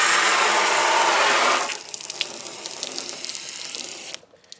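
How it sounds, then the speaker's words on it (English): Water pours and splashes onto a ceramic-coated car, a loud steady rush for about a second and a half, then thinner trickling and dripping as it runs off the paint, fading out at the end. "Let's see what happens if we put some water on it."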